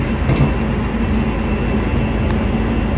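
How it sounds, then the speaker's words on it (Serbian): A tram pulls into the Savski most stop in Zagreb, a loud continuous rumble of rails and motor with faint clanks, heard up close with no talking. "Evo, upravo je stigao tramvaj."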